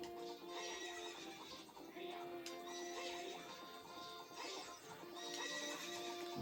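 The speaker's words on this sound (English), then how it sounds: "his horse can like slow you down if you touch it" A horse whinnies and neighs repeatedly in The Legend of Zelda: Ocarina of Time, alongside game music and hoof clip-clop at moderate volume.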